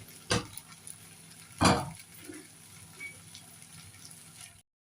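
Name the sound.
stirring and sautéing lentils in a pot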